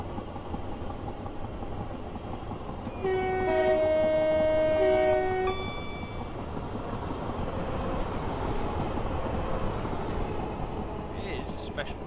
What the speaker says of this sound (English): It is a special kind of horn for a Black 5. Yeah, whistle's got some stuff jammed in it.